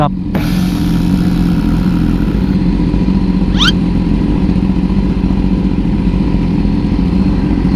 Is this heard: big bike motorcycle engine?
yes